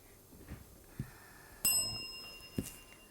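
A single bright quiz bell ding rings out and decays at a school quiz competition, with a few soft knocks and thumps before and after it in a quiet room.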